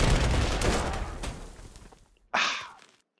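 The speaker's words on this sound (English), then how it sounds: "we can hit them with artillery" Artillery fire in the wartime strategy game Panzer Corps 2: a heavy booming barrage that rumbles and fades, then one sharp blast with a short decaying tail, with no voices.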